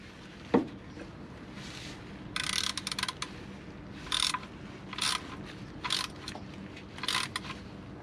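Oil pan drain plug being tightened on a Peugeot 208 1.2 PureTech during an oil change, heard as short bursts of ratchet clicking repeated several times at close range after an initial metallic knock.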